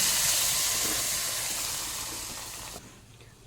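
Ground masala hitting a hot tempering of curry leaves sizzles in a loud, steady hiss that slowly eases over a few seconds, then drops away abruptly near the end.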